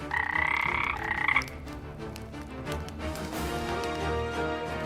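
A fairy-tale toad croaks as it leaps from a girl's mouth onto the floor: a loud, close, drawn-out croak for the first second and a half, then a busy layered backdrop carries on.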